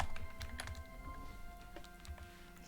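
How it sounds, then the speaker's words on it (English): Close, quiet typing on a computer keyboard, a steady patter of irregular key clicks against a low background hum, with no talking. "Try to write here with all the cables from the mic going past my keyboard"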